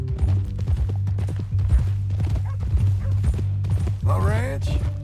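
Horse hooves clip-clop in a steady rhythm in Red Dead Redemption 2, close and clear, with a short neigh-like cry near the end and voices talking over the hoofbeats.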